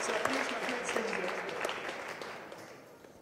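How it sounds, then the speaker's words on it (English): An audience at a University of Wroclaw orchestra event applauds steadily for a performer named Mehmet. The clapping is fairly soft and distant, with voices murmuring underneath. "pretty big applause to Mehmet"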